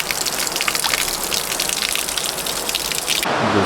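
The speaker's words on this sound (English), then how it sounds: "And we'll be crossing a river soon, the Zigzag River." Rushing water of the Zigzag River in Oregon along the Pacific Crest Trail, a loud, steady broadband roar heard close by with no talk, its hiss thinning abruptly near the end.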